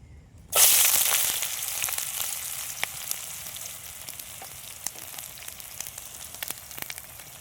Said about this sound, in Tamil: நல்ல எண்ணெய் சூடாயிடுச்சு இப்போது நம்ம வந்து வெங்காயத்தை சேர்த்துக்கலாம்